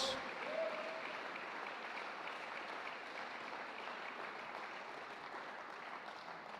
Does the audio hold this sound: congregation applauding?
yes